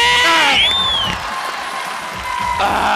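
A studio audience at a comedy show claps and cheers in a loud, dense burst, with a whistle near the start and a brief dip before the applause swells again.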